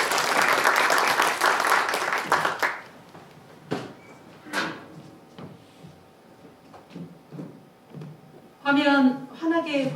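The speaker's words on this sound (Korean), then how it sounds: "여러분 큰 박수로 맞이해 주시기 부탁드리겠습니다." Audience applause at a political party meeting welcoming a speaker, a dense burst for the first few seconds that fades into talk and room noises, with a second short clapping burst near the end.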